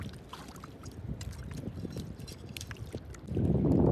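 Salt-water sea waves wash steadily along a shore where mud crabs are being caught, a low continuous rush that swells louder near the end, with no talk.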